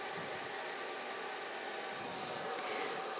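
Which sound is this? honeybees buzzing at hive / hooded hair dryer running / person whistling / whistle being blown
hooded hair dryer running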